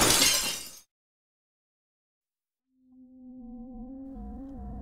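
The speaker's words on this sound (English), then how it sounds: "the sound of shattering glass replayed several times in my brain" A window pane shatters in one loud, sharp crash of breaking glass, followed by a long silence and then a low sustained tone.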